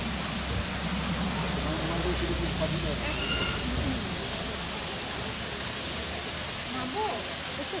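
A waterfall beside the mountain road from Tezpur to Bomdila gives a continuous broad rushing roar, steady and fairly even throughout, with faint voices and noises mixed in underneath.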